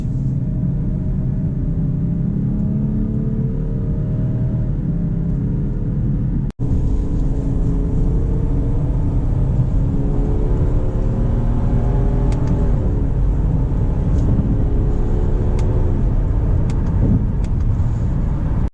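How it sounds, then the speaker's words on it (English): A 2018 Subaru Outback's 3.6-liter H6 engine drones loudly from inside the cabin, pulling in rising sweeps through the gears, with a brief cut partway and a second strong pull after it. "I'm going to create a little bit of space with me and the person in front of me just so I can get proper acceleration on this"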